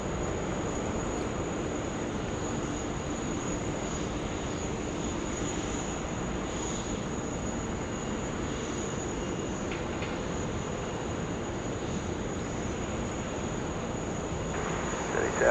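Airplane departing at Sydney Airport, a steady, fairly faint and distant rushing engine roar holding evenly throughout with a faint high whine, and no voices.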